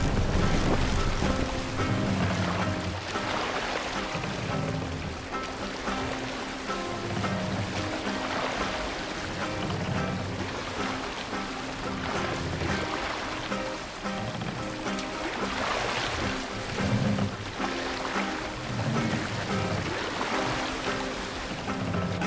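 A sailing ship crosses ocean waves in Assassin's Creed Valhalla: steady wind and rushing surf with rhythmic swells of water washing past the hull, continuous and moderately loud with no talk.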